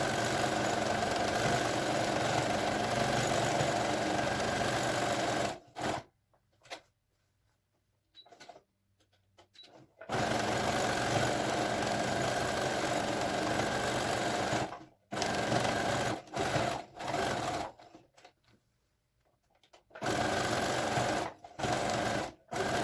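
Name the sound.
sewing machine sewing pom pom seat cushion seam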